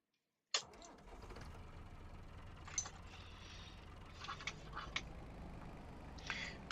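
In Farming Simulator 2025, a wood chipper's own engine starts with a sudden loud crank and settles into a steady mid-pitched idle, with clanking mechanical clicks on top.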